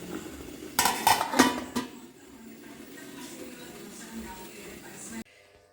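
A metal lid is set onto a puttu steamer while milk puttu cooks: a short burst of clanking, rattling metal knocks, followed by a quieter steady background hiss and low kitchen murmur.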